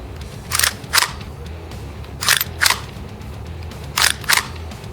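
Socom Gear Kel Tec PLR-16 airsoft gun's large bolt cycling, three pairs of sharp, loud clunks spaced about two seconds apart, close and distinct over a faint background.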